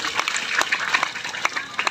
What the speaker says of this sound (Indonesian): Tepuk tangan ibu.